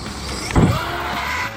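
An Arrma Outcast 8S RC car on stock gears makes a short, loud electric motor burst as it accelerates toward a ramp, surging up and then settling into a steady hum.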